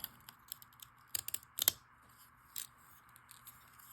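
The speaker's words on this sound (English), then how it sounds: "I might just trim this with my favorite little scissors." Small scissors snipping paper in a few quick, crisp cuts, close by, with short pauses between the clusters of snips.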